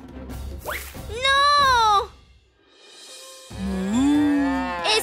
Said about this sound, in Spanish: ¡Ese es el sonido de una vaca!